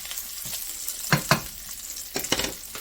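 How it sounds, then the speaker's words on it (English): Beef tips sizzling in a hot pan are stirred, with a few scraping strokes heard over a steady frying hiss, close by. "we're going to go ahead and give this a stir"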